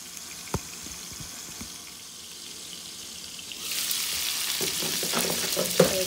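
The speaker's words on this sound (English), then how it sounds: "And we're just going to let these burgers cook." Onion burgers fry in a covered pan, a soft crackle at first that swells into a louder, steady sizzle partway through, with a few small clinks close by.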